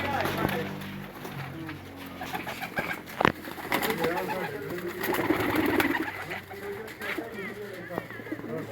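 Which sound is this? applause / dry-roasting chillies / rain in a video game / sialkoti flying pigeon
sialkoti flying pigeon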